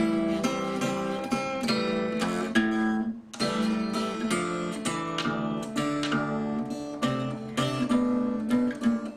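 A blues guitar plays the final turnaround of a blues song, a continuous run of fingerpicked notes and chords with steady rhythmic plucks and a brief pause midway, close and unaccompanied.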